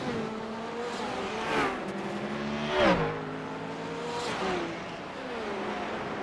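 A race car on its out lap at the Long Beach street circuit drives past, its engine whining through rising and falling gear changes, with louder swells as it nears and passes around the middle and a steady roar between.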